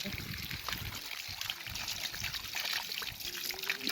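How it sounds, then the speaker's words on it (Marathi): Water runs steadily on a farm to irrigate trees, giving a continuous trickling hiss heard close and moderately loud throughout. "इथं पण चालू आहे पाणी"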